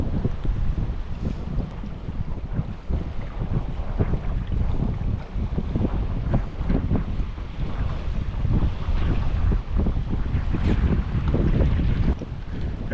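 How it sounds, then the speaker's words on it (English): Strong wind buffets the microphone outdoors on a flathead fishing trip, a loud continuous roar with gusty swells and water movement beneath, no voices present. "That wind has really picked up."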